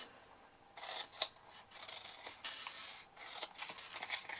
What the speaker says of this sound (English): So the first thing you need to do here is cut the wedges out of the